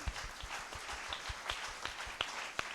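A church congregation claps hands in thanks to God, a faint, scattered patter of claps with uneven rhythm heard from a distance, with no voices over it.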